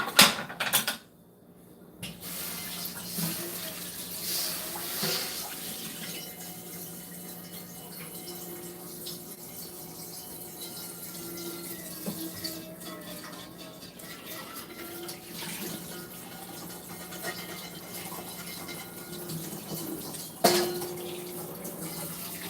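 Water runs steadily from a tap indoors, a continuous hiss broken by a few clunks near the start and end.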